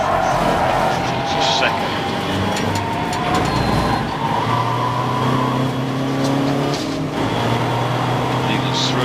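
Race cars in a club endurance race at Silverstone GP circuit, several cars roaring past close by with a loud sustained engine drone and a passing sweep, while a commentator talks over it.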